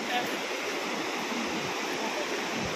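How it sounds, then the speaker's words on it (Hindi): Steady broadband rush of a waterfall at Sonprayag on the Kedarnath route, heard at night from above a deep gorge, a continuous even roar with no voices. "यहाँ पे सोनप्रयाग में यहाँ पे एक झरना है"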